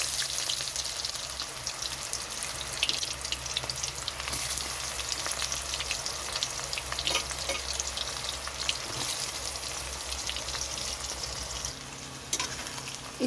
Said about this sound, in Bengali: তো এখানে আমি ইঁচড়গুলো ভেজে নেব